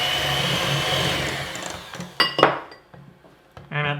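A hand mixer creams the ingredients for a pineapple upside-down cake batter with a steady whirring buzz for about two seconds, then stops, followed by clinks and taps against the bowl and a brief final whir.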